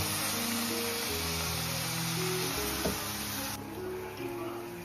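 Leafy vegetables fry in hot oil in a wok, giving a steady, dense sizzle with occasional stirring scrapes and clatters and a tonal hum underneath.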